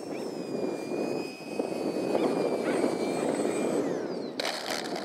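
An E-flite Habu STS 70mm electric ducted-fan model jet whines steadily at a high pitch over strong wind noise, its tone shifting slightly, with a brighter burst near the end.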